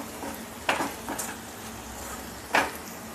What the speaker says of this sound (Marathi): चांगली भाजी अगदी शिजेपर्यंत तिला ढवळत ठेवा